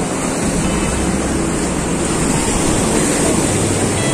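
Sea waves at Digha beach roll in as a steady, loud wash of surf, with wind buffeting the microphone throughout and no voices.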